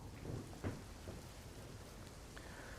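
Heavy monsoon rain pours down in Padra, Vadodara, in a dense, continuous hiss, fairly soft and even throughout, with no voices.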